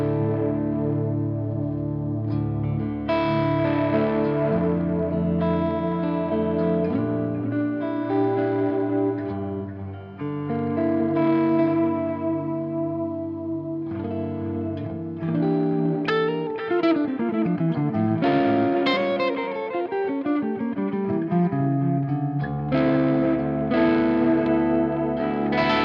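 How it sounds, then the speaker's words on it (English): A Giungi Guitars Path model electric guitar on its neck pickup, set at a lower volume, plays warm, sustained chords and melodic runs with a washy, echoing shimmer, continuous and unaccompanied. "this is the neck pickup that I usually set it with a lower volume"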